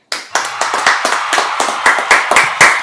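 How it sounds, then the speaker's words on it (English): A few people clapping in a room, a short burst of separate, close hand claps at an uneven rhythm, with no voices over it. "everybody give a round of applause for Spencer"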